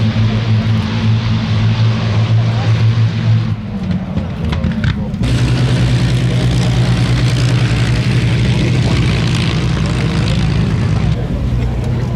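The Avro Lancaster bomber NX611 taxis at the East Kirkby air show, its propeller engines giving a loud, steady, low droning rumble that dips briefly midway and then resumes.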